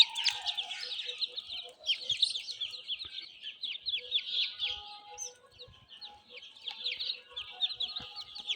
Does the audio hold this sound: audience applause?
no